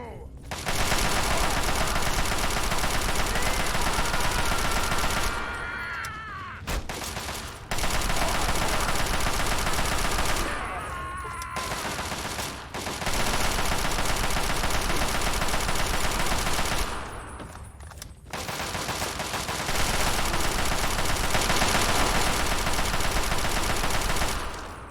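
Gunfire in Fallout 3 rattles in sustained, loud bursts, mouse-aimed shooting, broken by a few short gaps where the shooting pauses briefly.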